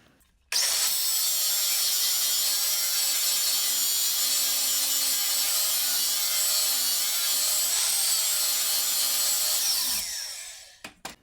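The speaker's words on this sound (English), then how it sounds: "I'm just going to take my flat disc grinder and" A flat disc grinder cutting a bevel into metal in a coach shop, a loud, continuous high whine that starts abruptly, holds steady for about ten seconds and then winds down.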